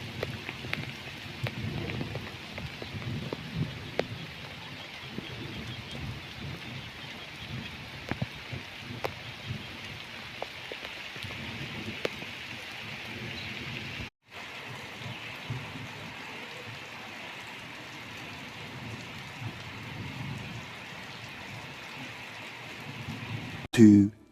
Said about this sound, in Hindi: हुण बारिश शुरू थी गई है।